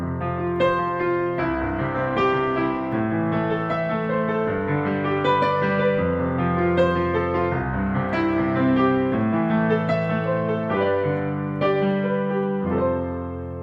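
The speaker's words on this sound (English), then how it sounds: "break up the chord so that we're going to play 1 note at a time and make it more" Piano playing broken chords one note at a time in a simple beginner style, notes rippling upward in a steady, rhythmic flow with chord changes every couple of seconds, close and clear with no talking.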